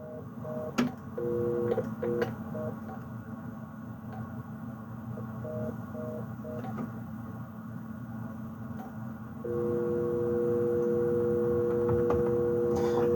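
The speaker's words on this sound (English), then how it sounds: "My phone system's going crazy, and I have nothing to do with it." A malfunctioning telephone system emits repeated dialing tones in short bursts, then a sustained steady tone, over a constant low hum, with no talking.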